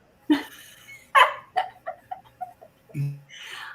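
A dog gives a few close, loud barks followed by a series of shorter yips and whimpering sounds, uneven in rhythm across a few seconds.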